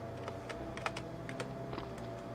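Computer keyboard keys pressed in a run of quiet, irregular clicks while gaming on an old 386 PC, light taps spread across the moment with no talking.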